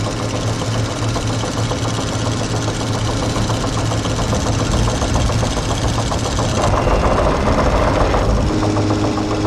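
The boat engine in the 1975 film Jaws strains with a loud, continuous, rattling mechanical drone that shifts slightly in tone near the end, with no speech over it.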